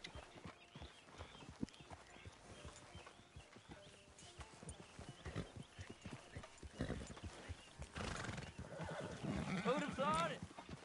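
Horse hooves clip-clop at a walking pace in the Red Dead Redemption 2 video game, then a loud neigh and whinny rises near the end, with voices talking underneath.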